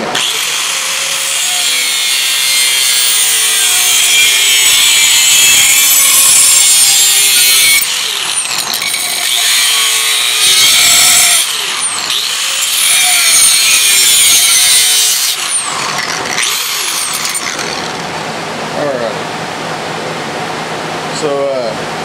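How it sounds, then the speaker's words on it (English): A cutting disc on a cutting wheel slices through a metal bracket for mounting a utility spot light on a tractor, giving a loud, harsh, sustained grinding shriek that breaks off briefly and restarts several times. "got my cutting wheel, cutting disc"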